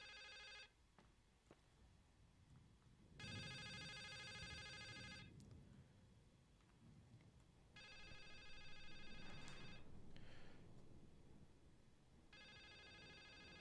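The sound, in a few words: telephone ringing in video game The Suicide of Rachel Foster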